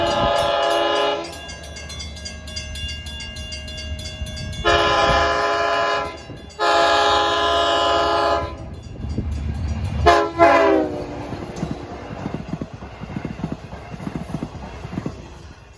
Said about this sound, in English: Solid horn blowing on that train.